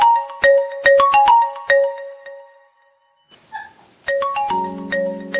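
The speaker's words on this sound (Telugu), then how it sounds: "సంపతి ఫోన్ వస్తాను చూడరాదురా?" A mobile phone rings with a melodic electronic tune, clear bright notes repeating in a quick pattern, pausing briefly, then starting again louder with a sustained buzzy chord underneath; no one talks.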